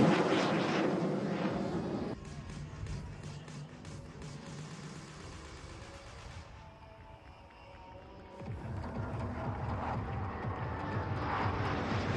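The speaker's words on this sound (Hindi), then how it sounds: "आता हुआ एक विमान, मगर क्या ये एक विमान है या दो" Aircraft engine roar passing overhead at a temple festival gathering, loud broadband rumble that swells, dips in the middle, then builds again, with no speech over it.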